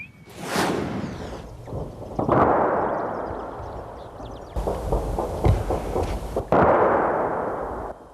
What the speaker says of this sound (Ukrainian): то скрекоче кулемет, то реве важка артилерія